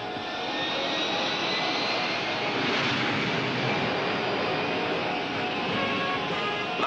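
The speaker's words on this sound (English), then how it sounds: "During takeoff roll, call out air speeds on 10-knot intervals beginning at 90 knots." A jet aircraft on its takeoff roll gives a loud, steady engine roar heard from close by, with no talking.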